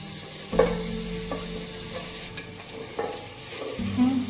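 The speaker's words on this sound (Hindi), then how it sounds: "जब तक लहसुन फ्राई हो रहा है इसको थोड़ा सा हम फ्राई करेंगे।" Garlic fries in oil in a pot, giving a soft, steady sizzle broken by a few scrapes and clinks of a spoon stirring, close up with no one speaking.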